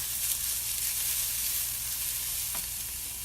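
Carrots stir-frying in a pan give a close, steady sizzle and hiss, with a single soft scrape or stir tap near the end.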